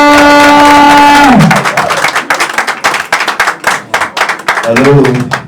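A crowd claps to welcome an actor to the podium. A host's amplified voice gives way to a burst of fast, irregular hand claps that rolls on for several seconds before a voice returns.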